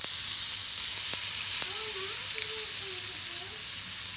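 Grated coconut sizzles and fries in a hot pan. The crackling hiss is steady and close, with a faint tone and a couple of light utensil taps.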